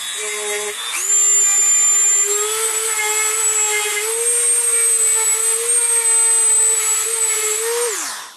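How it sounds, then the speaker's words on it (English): A handheld Dremel rotary tool spins up and whines steadily at high speed while sharpening a small hand-forged steel tool, a sustained close, loud drone lasting several seconds before winding down. "Sharpen with a Dremel, I suppose."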